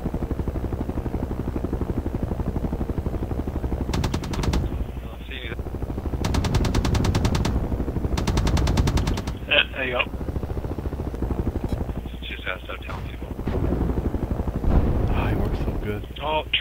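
Bursts of rapid machine-gun fire from a Havoc helicopter gunner in the military game Project Reality, several loud, sustained rattling volleys over a constant rotor drone, with someone talking in between.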